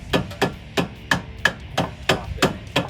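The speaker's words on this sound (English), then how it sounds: "I'm using a rubber mallet for that" Rubber mallet striking a front strut bolt on a 2011-2014 Ford Mustang to knock it free, about eight sharp, evenly spaced blows, close and loud with no talking.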